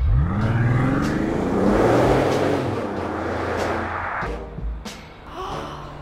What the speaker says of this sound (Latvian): Atgādināšu, tas ir V12 biturbo motors.